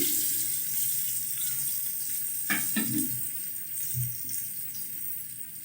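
Onions and curry leaves frying in a pan over a gas flame: a steady, soft sizzle runs throughout, with a few brief clinks and stirring knocks partway through.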